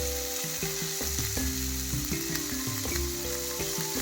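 Ingredients frying in oil for street-style bread pakoda, a dense close sizzle and crackle that holds steady over a few seconds, no voices present.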